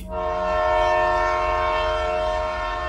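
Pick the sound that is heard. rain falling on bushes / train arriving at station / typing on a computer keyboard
train arriving at station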